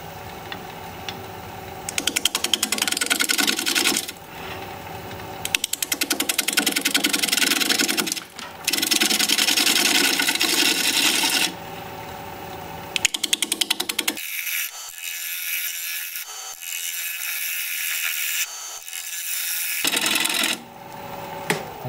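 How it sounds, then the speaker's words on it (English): Wood lathe spinning a thin wooden slab at 630 RPM while a 5/8 inch bowl gouge cuts it, giving loud, close, continuous rough scraping in long bursts with brief stops and a lighter, airier stretch near the end. "We're going to be turning at 630 RPM, 5/8 inch bowl gouge."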